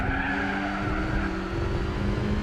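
In Gran Turismo 4, a racing car drifts and skids, tires squealing over a steady, loud engine drone for a few seconds with no talk.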